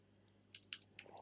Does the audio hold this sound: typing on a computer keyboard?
yes